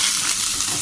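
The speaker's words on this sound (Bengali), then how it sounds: "এখানে একটু আলু ভাজছি আর ডিম দেব।" Potatoes frying in oil in a home kitchen pan, a steady close hissing sizzle with faint crackles running continuously through the short moment, no voices.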